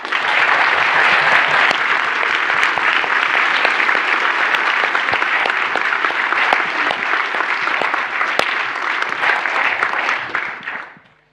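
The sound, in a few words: audience applause for young award finalists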